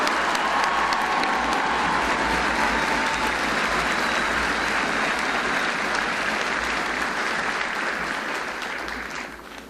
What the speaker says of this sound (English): So please, another round of applause for our drill sergeants.